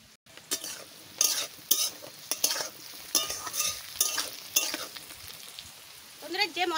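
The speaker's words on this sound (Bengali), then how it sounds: "যে মশলাটা আমি বাটিছি সেই মশলাটা এর সাথে দিয়ে আমি কষাই নেব।" Ground spice paste frying with vegetables for a tarkari, as repeated stirring strokes scrape through a sizzling pan, close and steady.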